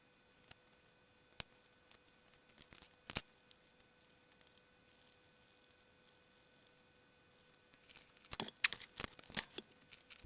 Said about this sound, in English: I'll see how much of this I can rip off